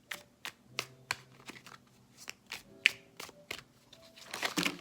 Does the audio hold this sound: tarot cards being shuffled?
yes